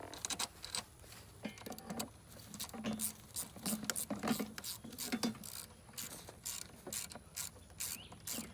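A bolt being tightened on a kids' 800-watt electric ATV with a ratchet, making rapid clicking pawl bursts repeated in short runs at close range with faint background noise.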